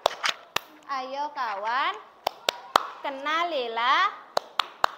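Pairs of pupils play a classroom clapping game, with sharp single hand claps scattered between stretches of sung, chanting voices. The claps come mostly in short pairs and triplets near the start and end.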